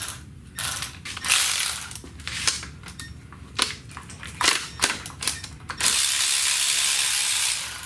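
A ratchet zipping out bolts from the AC compressor of a Chevy Cruze during an engine swap, bursts of rapid clicking pawl ticks, loud and close, separated by short pauses, with a steady background hiss and no talking.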